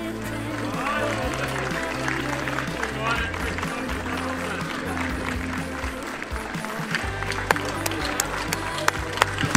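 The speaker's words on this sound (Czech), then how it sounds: "Velký závěrečný aplaus" Sustained crowd applause and clapping closing an orienteering championship, steady and fairly loud throughout, with a commentator's voice and some spectator noise mixed in.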